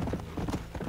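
Horse hooves trotting in the video game Red Dead Redemption, a quick rhythmic clip-clop, close and moderately loud over a dense background.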